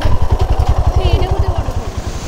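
A motorcycle engine idles close by with a fast, even throbbing pulse as the bike is parked on a rough road near a waterfall, tapering slightly at the end.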